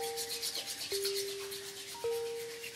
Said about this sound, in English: rub the palms together, create heat